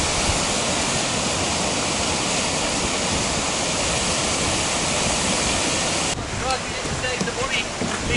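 A waterfall in full spate along the Cumbria Way roars with a loud, continuous rush of falling water that fills the whole scene, with a slight change in texture near the end.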